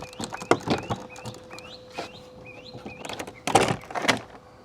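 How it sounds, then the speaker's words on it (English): Door trim panel being pried and pulled off a Lexus GX460 door, giving sharp plastic clip pops and knocks at irregular intervals, close and fairly loud, with a cluster of louder snaps near the end. "So now we're going to pull up on this panel to fully remove from the door."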